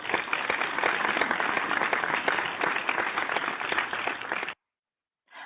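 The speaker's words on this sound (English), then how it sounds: "Let's applaud her and make sure that you make her feel welcome." Radio show audience applause welcoming a guest, a steady dense wash of many hands clapping for several seconds, then cutting off abruptly.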